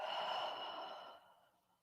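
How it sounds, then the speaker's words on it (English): A slow, audible exhale during a seated yoga twist, a soft breathy sigh loudest at first and trailing off over about a second and a half. "And breathing out."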